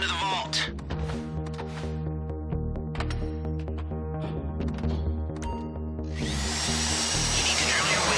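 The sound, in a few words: drill boring through vault door lock in a heist video game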